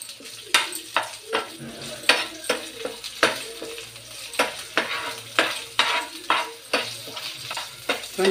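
Cumin seeds, green chillies and curry leaves frying in hot oil, a continuous crackling sizzle punctuated by a regular rhythm of spatula strokes scraping and tapping the pan, close up.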